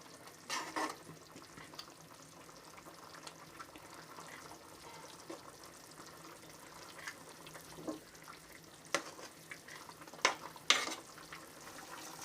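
Fish for a village-style Godavari tamarind curry fries quietly in a pan, with a faint steady sizzle and a few sharper scraping stirs of the spoon toward the end.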